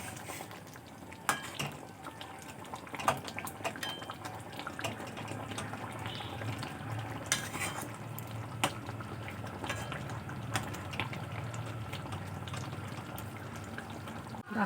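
Egg omelette curry with potatoes is stirred in a pan over a low, steady bubbling simmer, with scattered soft scraping clicks and knocks throughout.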